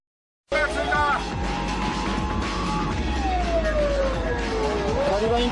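Police car sirens wail loudly up close during a pursuit on a Japanese road, several overlapping sweeping tones rising and falling over heavy traffic and engine roar, with a voice talking over them.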